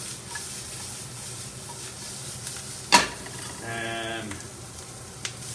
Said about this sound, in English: I gotta be careful my garlic doesn't burn.